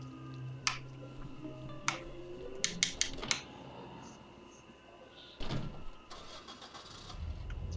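A car engine in Dead Island Definitive Edition hums steadily with a few sharp clicks and thumps in the mix, then the motor swells near the end, without speech.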